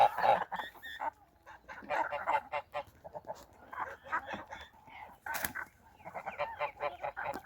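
A flock of domestic geese on a farm honks continuously, many overlapping nasal calls near and farther off, loud and busy throughout.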